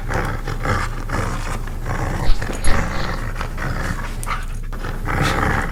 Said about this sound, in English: I can still hear this dog.